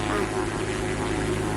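An airplane drones in a video game, a steady engine hum with a buzzing, propeller-like tone that stays loud and even throughout the short stretch.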